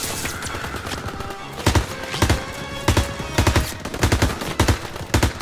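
Call of Duty WWII gameplay: a mounted machine gun fires in sharp, rapid bursts. The bursts repeat at irregular intervals over a dense bed of battlefield noise, loud and close, with no voices.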